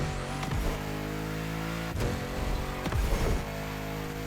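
Car engine in The Crew Motorfest racing game holding a steady drone, with short bursts of revving and tire noise as the car brakes and turns, under faint background music.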